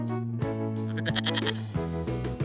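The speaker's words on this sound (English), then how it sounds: "Here comes a goat." A goat bleating on a farm, several short bleats heard fairly close over a steady backing of children's music.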